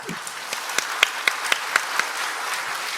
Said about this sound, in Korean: 자, 박수를 치겠습니다.